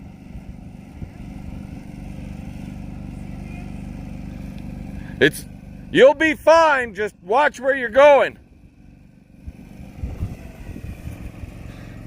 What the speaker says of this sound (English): So, I'm gonna take her for a ride in my big green tractor.